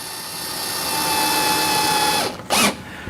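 A power drill drives screws into a VEVOR seven-tier rotating shoe rack tower. A steady whine runs for about two seconds, then winds down and stops, followed by one short, louder burst, close and alone.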